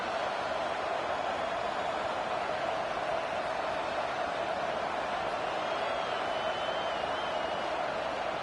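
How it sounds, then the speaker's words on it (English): At a Boise State football game, a stadium crowd roars as a dense, steady wall of noise. It holds unbroken and loud throughout, with no distinct voices standing out. "This crowd bringing the energy and noise early."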